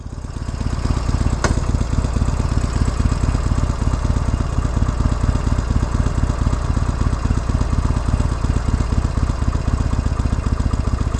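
Motorcycle engine idling with the bike held in first gear, a steady close rhythmic putter that continues throughout without talk.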